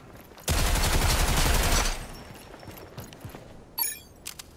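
Automated turrets in the video game Rogue Company, in a PS4 tutorial, let off one loud, sustained burst of rapid machine-gun fire lasting over a second, followed by a few scattered, quieter shots and clicks.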